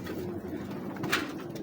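Soft, low cooing of Teddy Bug pigeons murmurs steadily in the background, faint and rounded, with a brief rustle partway through.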